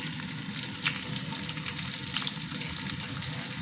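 Onions sizzling in hot oil as a tempering for chicken sukka, a close, steady crackling fry with bursts of spitting and stirring scrapes, no voices over it.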